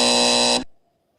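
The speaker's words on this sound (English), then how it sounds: "We got the buzzer for you." A loud, harsh electronic buzzer sounds once, a flat buzzing tone that holds for about half a second and then stops abruptly.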